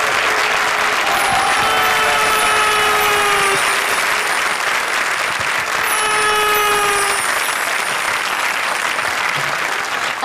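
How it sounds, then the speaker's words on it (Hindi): Studio audience on a Hindi comedy talk show breaks into loud, sustained applause that fills the whole stretch, dense and steady, with faint whistles and cheers riding on top. "चल रहे, तालियां बजाओ रहे हमारे सांभर कालिया के लिए।"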